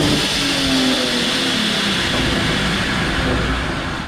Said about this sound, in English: So now we have those loud whoosh sounds on the car.